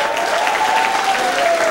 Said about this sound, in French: mais on les applaudit bien fort.